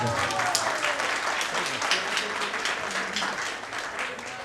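Steady, enthusiastic applause from a crowd at a school batch reunion, many hands clapping continuously at moderate loudness with a voice briefly audible over it.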